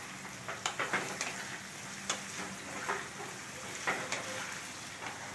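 Chopped tomatoes with ginger-garlic paste and green chili paste sizzle in a hot pan for prawn biryani, a steady frying hiss broken by light, irregular clicks of a spoon stirring.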